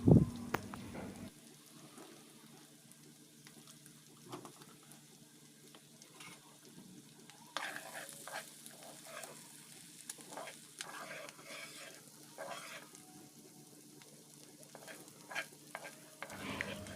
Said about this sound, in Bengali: আমি একদম ভাজা ভাজা করে তারপরে চোলা থেকে নামিয়ে নেব